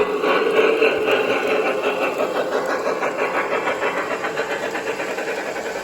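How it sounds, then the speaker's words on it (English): A 1998 Lionel 3005 L3A Mohawk model steam locomotive runs on its Pullmore motor, giving a close, steady whirring hum with a fast, even pulsing beat and a faint hiss throughout. "you're going to get to see the Pullmore motor in action."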